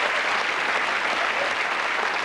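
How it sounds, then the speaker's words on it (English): A TV studio audience applauds the yellow team on a snooker game show, a dense, even roar of clapping that fills the whole stretch without a pause. "Steve and Dennis, give them a big clap"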